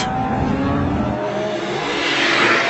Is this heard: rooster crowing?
no